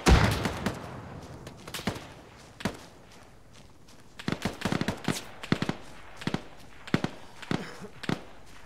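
Scattered gunshots and short bursts of fire ring out in a military shooter game, some sharp and near, others softer, in an uneven rhythm over a quiet background.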